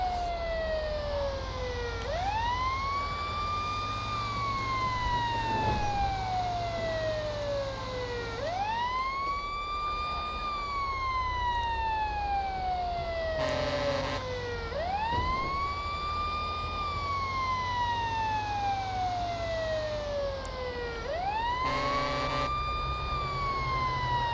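A fire engine siren in a Los Santos firefighting video game, responding code 3: a loud, steady wail rising and falling in long sweeping cycles, punctuated by brief air-horn blasts over continuous engine rumble.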